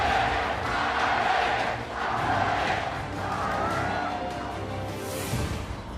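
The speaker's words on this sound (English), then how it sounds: "and the crowd welcomes them" A large crowd roars and cheers continuously, loud and sustained, with a swell of shouting near the end, at the opening ceremony of the League of Legends World Championship Season 7 main group stage.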